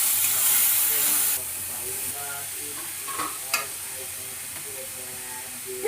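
Ash gourd curry with coconut frying and being stirred in a pan, a steady sizzle and hiss that is louder for the first second, then settles under scattered scraping of the spoon.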